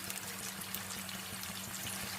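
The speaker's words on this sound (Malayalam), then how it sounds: "ഏകദേശം 2 ഗ്ലാസോളം വെള്ളം ഒഴിച്ചു കൊടുക്കാം." About two glasses of water poured steadily into a pan while making dhokla syrup, a continuous close splashing stream with no voices for the whole couple of seconds.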